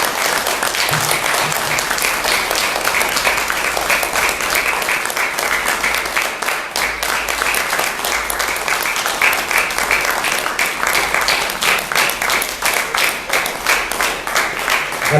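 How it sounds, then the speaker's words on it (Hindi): An audience at a farewell ceremony claps loudly and continuously from start to finish. The dense applause is close and evenly sustained. "जोरदार तालियों से"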